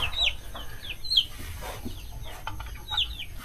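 Chickens cluck and chirp in short bursts over a low outdoor hum on an organic farm, with several birds calling close by.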